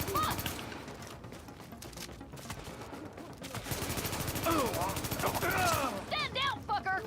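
Rapid gunfire bursts from a firefight in the video game The Division, with repeated shots and chatter-like tones over game effects, loud and sustained, with voices talking during the exchange.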